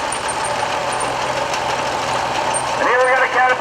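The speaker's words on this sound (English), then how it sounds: "We got the DD9 coming through with the dozer." A DD9 dozer rolls past during a construction expo parade, its engine a steady mid-range rumble that rises into a louder grinding surge near the end, under ongoing crowd chatter.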